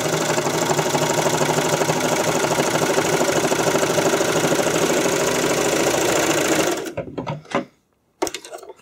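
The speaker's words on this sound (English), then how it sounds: "and then you just start sewing." A serger stitches a seam in stretched spandex with a steady, close, loud mechanical whir and chatter for about seven seconds, then stops abruptly, followed by a few faint handling clicks.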